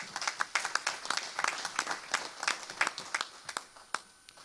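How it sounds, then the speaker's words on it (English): Audience at a skilled trades task force meeting clapping, a small, scattered round of applause with distinct individual claps, moderately faint and uneven. "I think deserves a round of applause"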